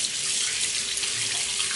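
Water pours steadily over a new iPhone, like a running tap hissing close by. The flow stays fairly soft and even for the whole moment, with no speech.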